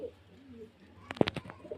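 Pilong pigeons at a pigeon loft in Beldanga, cooing in soft low calls early on, then a sharper flurry of louder bursts near the end, close by.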